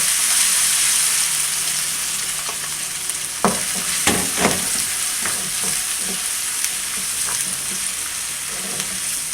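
Ginger garlic paste fries with onions in hot oil for a spinach and mutton curry, giving a steady close sizzle broken by several sharp spatters and scraping stirs, with no talking.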